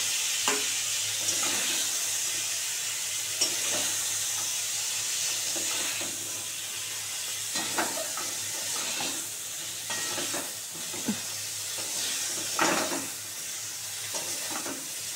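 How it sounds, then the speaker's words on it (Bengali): Cauliflower florets frying in oil in a kadai, a steady close sizzle with repeated scraping stir strokes and clinks throughout, no voices. "এই দেখো কফিটা আবার ভালো করে লাল করে ভেজে নিলাম"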